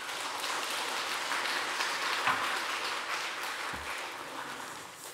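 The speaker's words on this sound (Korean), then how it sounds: "우리 환영하는 마음으로 크게 박수로 모시겠습니다." A church congregation gives warm, sustained applause to welcome the pastor, a broad even roar of many hands clapping together in a large room, with a couple of faint thumps near the end.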